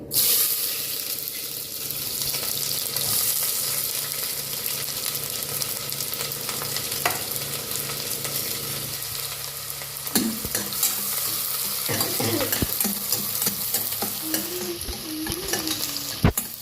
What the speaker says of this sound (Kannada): ಮತ್ತು ಈರುಳ್ಳಿ ಹಾಕ್ತಿದ್ದೀನಿ